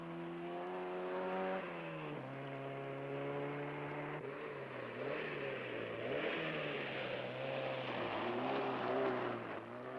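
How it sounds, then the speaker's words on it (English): Peugeot rally car driven by Robert Shankland at close to 100 mph on a dirt track in the East African Safari rally, its engine droning loud and sustained with pitch shifts as it revs and changes gear. "This Peugeot, driven by Robert Shankland, is travelling at close to 100 miles an hour on what is little more than a dirt track."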